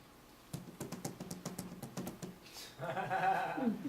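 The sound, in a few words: typing on a computer keyboard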